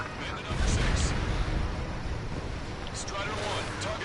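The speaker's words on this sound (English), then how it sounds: "Burst missile out." Burst missile launch and distant explosions in the flight combat game Ace Combat 7: a low rumbling roar with soft blasts and jet noise, a steady dense wash rather than sharp hits, with faint radio chatter.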